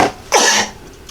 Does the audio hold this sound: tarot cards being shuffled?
no